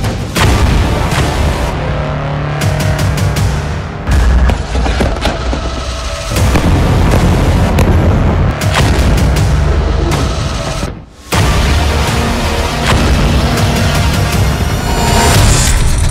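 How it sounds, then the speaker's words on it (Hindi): Israeli army artillery guns firing shells, a dense, loud barrage of heavy booms and blasts rolling almost continuously, with a brief lull near the end before the firing resumes. "इसी बात को ध्यान में रखते हुए इसराइल की सेना अधिक से अधिक तोपों का इस्तेमाल कर रही है।"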